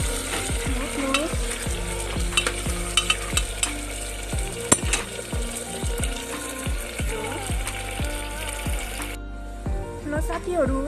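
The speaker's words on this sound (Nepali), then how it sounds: "पिडालु मजाले रातो हुन्छ गरेर भुट्नुहोस्" Taro root pieces fry in a pan with a steady hiss of oil, while a spatula scrapes and stirs in repeated strokes, close and clear from start to finish, the sizzle cutting off near the end.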